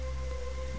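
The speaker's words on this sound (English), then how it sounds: "Wow, it's starting to rain." Rain begins falling in the video game Dig or Die, a soft steady patter under a constant low electronic game drone, brief and even.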